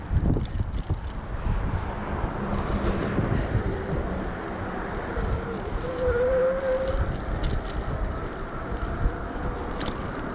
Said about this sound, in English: Oh, that wind's terrible.